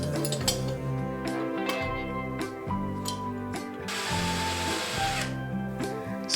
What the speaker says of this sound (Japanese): 下穴を開けてから木ネジを打っていきます。